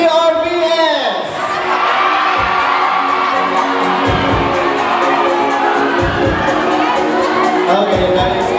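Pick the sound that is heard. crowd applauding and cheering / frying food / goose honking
crowd applauding and cheering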